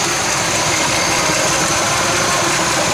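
The big block engine of a 1966 Chevy Biscayne, running with hardly any fuel in it, idles with a loud, close, steady rumble that holds constant throughout.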